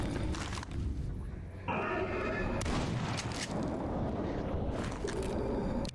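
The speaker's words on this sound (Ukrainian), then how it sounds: "Вистачило одного пострілу." Gunfire in the shooter game S.T.A.L.K.E.R. Anomaly, loud booming shots and rumbling blasts filling the clip with a continuous dense roar, a sharp burst standing out near the middle.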